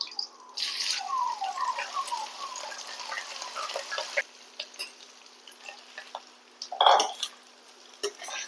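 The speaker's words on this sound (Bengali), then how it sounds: "এবারে আমি ভাতটা ঢেলে দিচ্ছি।" Rice poured into a pot of whole garam masala, bay leaves, cinnamon, cloves and cardamom for jeera rice, giving a steady close hiss and rattle of grains with a sharper burst near the end.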